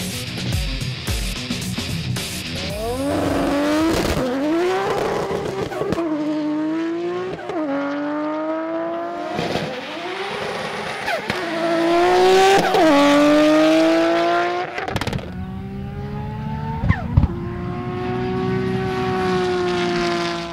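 A Nissan R32 GT-R drag car tuned to about 640 horsepower launches and screams through repeated rising gear pulls, each shift marked by a sharp drop before the engine climbs again, loud and close.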